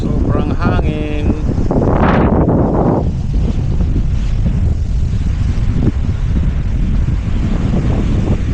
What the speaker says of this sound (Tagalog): Hangin nga lang, hangin, sobrang hangin.